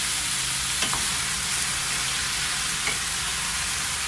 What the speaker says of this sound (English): Alright, so here's your chicken and your onions. Just stir this a bit.